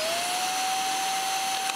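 An INSE S610 cordless stick vacuum cleaner runs at its first speed, giving a steady high-pitched motor whine with a broad airy rush, close and continuous throughout.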